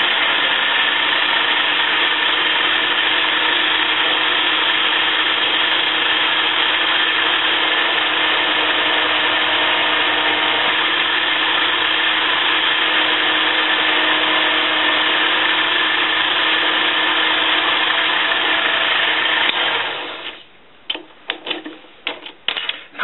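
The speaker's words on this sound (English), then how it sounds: "I have to break this edge, face off this surface, and break the edge on the inside" A lathe faces the surface and breaks the edges of a metal stove part, producing a steady, loud, dense grinding whir for about twenty seconds before it winds down into scattered clanks and clicks.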